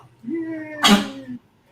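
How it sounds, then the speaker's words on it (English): A dog gives a short, sharp sneeze in the middle of a brief voiced sound, close and fairly loud, with quiet before and after. "every time our dog sneezes like that"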